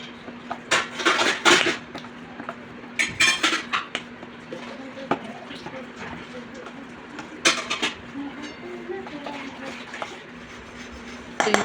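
A ladle scrapes and clinks against a pot while mixing thick raw mango pulp and jaggery, giving irregular metallic knocks in clusters, with birds chirping faintly in the background.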